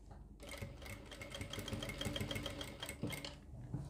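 A sewing machine stitches a collar neck in a close, continuous run of rapid needle strokes, steady for a few seconds before easing off at the end.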